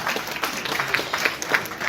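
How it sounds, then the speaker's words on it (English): Women in an audience at the Obby's Ventures business launch in Kenya clap steadily, a dense, even patter of applause filling the hall with little talk. "Ladies, clap for me."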